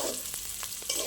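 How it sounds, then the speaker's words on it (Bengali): Boiled potato pieces frying in hot oil give off a steady close sizzle, with a few brief scrapes of stirring breaking through. "শুধু একটু গরম তেলে ভেজে নেব।"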